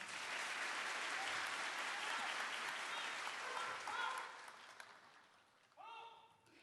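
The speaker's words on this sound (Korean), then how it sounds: "수상자들에게 축하의 박수 부탁드립니다." Applause for award winners at a police officers' appointment ceremony, a broad sustained clapping from a large crowd that fades after about four seconds, followed by a voice speaking.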